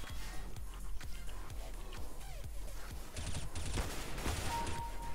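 Rapid gunfire in the video game Counter-Strike: Global Offensive, a quick series of sharp shots followed by a denser burst of automatic fire, crisp and close.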